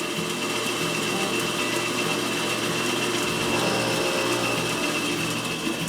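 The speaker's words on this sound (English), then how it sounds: "Now I'm going to ream that to" A reamer is run through a hole on a round column milling machine, sizing it to just under 1/4 inch, a dense, loud, continuous high-pitched machine whir with steady tonal hum throughout.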